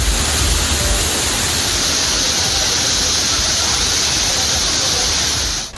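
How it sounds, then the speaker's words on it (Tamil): Waterfall at Thirparappu falls in Kanyakumari district, a loud, steady broadband roar of cascading water that fills the whole clip without a break. "கன்னியாகுமரி மாவட்டம் திருப்பரப்பு அருவியில் சுற்றுலா பயணிகளும் ஐயப்ப பக்தர்களும் குளித்து மகிழ்ந்தனர்."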